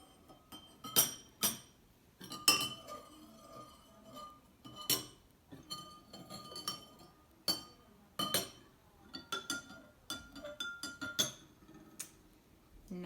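A spoon clinks against a glass while gently stirring Easter egg dye, light irregular taps and rings, close and clear, coming in scattered bursts over quiet.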